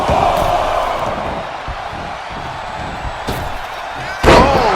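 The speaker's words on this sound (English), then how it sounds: "Catapulting down on the opponent." In the WWE 2K25 wrestling video game, a wrestler slams down onto an opponent with a heavy thud over steady arena crowd noise, and a second loud impact lands near the end.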